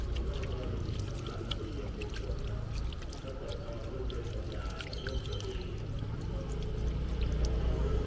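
Water pours and trickles steadily at a hand-washing station on the grounds of a Thai temple in Nonthaburi, a continuous splashing wash with outdoor ambience and no speech.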